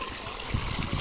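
Irrigation water flows from one paddy field into the next, making a continuous close trickle and gurgle with a few louder splashes.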